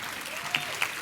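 Audience applause at a legislative luncheon, a soft even wash of many hands heard from a distance, with a couple of brief brighter accents.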